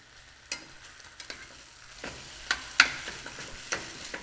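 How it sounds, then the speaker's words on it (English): Layered chicken sizzling in a hot frying pan, a soft continuous crackle broken by sharp scrapes and clacks as pieces are stirred and flipped, close by and fairly quiet. "I hear my chicken sizzling away"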